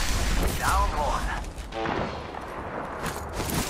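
Gunfire in a shooter video game, with a few muffled shots and bursts amid busy game noise, and a voice talking over it.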